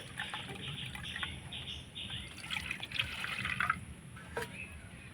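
Warm milk pours for bread dough in a quiet, uneven trickle of liquid lasting a few seconds, faint and close, with light clinks of a vessel and no talking.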